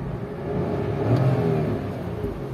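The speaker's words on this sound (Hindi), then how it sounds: "कुछ ये इंजन साउंड है इसका।" A 2021 Nissan Magnite engine revs up briefly and settles, a steady mid-pitched hum swelling in the middle, close and moderately loud.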